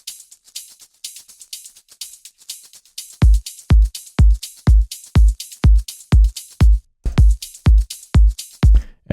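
Layered deep house drum loops play in a steady groove. Crisp hi-hats run alone at first, then a punchy four-on-the-floor kick joins and thumps on every beat under the shuffling hats.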